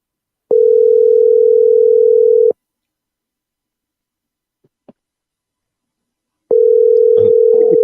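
Telephone ringback tone on a call line: two long steady buzzing rings about six seconds apart, loud and close, with a faint click between them and a little muffled noise over the second ring.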